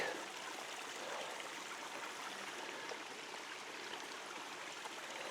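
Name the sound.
shallow stream flowing over rocks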